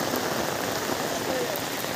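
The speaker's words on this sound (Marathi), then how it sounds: "सध्या गोंय राज्यात पाऊस सगळीकडे चालू आहे।" Steady rain falling across Goa during a heavy monsoon spell, a dense, even hiss of drops hitting surfaces that carries on without a break and with no talking.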